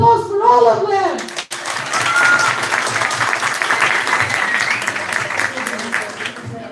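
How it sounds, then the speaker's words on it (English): Audience applause at a Model UN closing ceremony honoring delegates, a sustained room-filling clapping with crowd murmur, briefly dipping around the midpoint before continuing steadily to the end, after a short stretch of talk at the start. "So I would like an applause for all of them."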